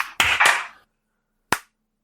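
Two sharp, close claps in quick succession, then a brief pause and one more crisp clap, each ending abruptly in silence.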